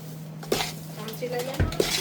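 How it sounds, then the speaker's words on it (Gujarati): A spoon stirs a thick adadiya pak mixture of urad flour, ghee and sugar in a pot, giving a few scraping clinks against the metal over a low kitchen hum, with one brief voice nearby. "હવે આપણે એને સરખી રીતે મિક્સ કરી નાખીએ"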